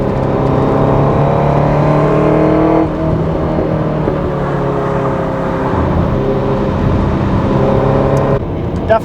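A 1978 Ferrari 308 GTS fitted with individual throttle bodies and EFI, driven on Colorado canyon roads: a steady, close engine drone with rising harmonics, shifting pitch near three seconds and again near the end.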